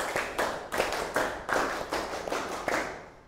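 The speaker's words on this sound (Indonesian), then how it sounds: "beri tepuk tangan dulu untuk kelompok 8" A classroom group claps for a presenting group, a run of about seven sharp, fairly even bursts of applause with no talking over it.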